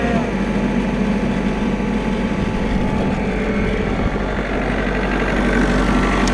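A Ransomes diesel ride-on lawn mower with hydrostatic drive idles close by, a steady, loud low rumble holding even throughout with no change in pitch.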